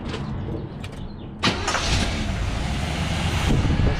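A car engine cranks and fires up with a sudden burst, then settles into a rough, loud, close idle that rumbles steadily to the end.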